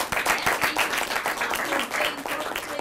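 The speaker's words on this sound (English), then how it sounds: "Let's give a round of applause." A room full of people applauds a student PR pitch presentation for Carnival Cruise Lines, a steady, dense clapping that carries loudly through the whole stretch.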